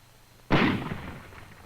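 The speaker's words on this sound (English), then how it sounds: "Here's a rifle grenade. Watch the recoil." A World War II rifle grenade fires with a single sharp, loud blast that decays quickly into a brief reverberant tail, heard alone.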